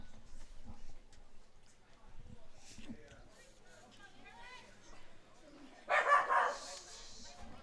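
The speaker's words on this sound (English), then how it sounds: "a barking dog in the stands" A dog barks a few times at a distance in the stands of a youth softball tournament game, sharp yaps rising briefly over the murmur of a crowd and ongoing talk.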